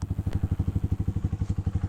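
A motorcycle engine runs close by at a steady, rapid idle-like thumping pulse, loud and continuous for the short stretch with no talking.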